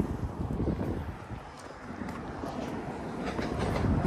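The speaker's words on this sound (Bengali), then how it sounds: "দেখতেই তো পারেন এই যে ট্রেন চলতেছে ট্রেন লাইনের মধ্যে দিয়ে।" A train rumbles along the tracks near Queen Elizabeth Olympic Park in Stratford, East London, with a steady low roar, mixed with wind buffeting the microphone; no voices.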